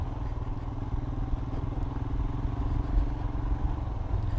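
A 2020 Royal Enfield Himalayan single-cylinder motorcycle being ridden, with a steady close engine thump and pulsing exhaust rumble holding a constant pace throughout.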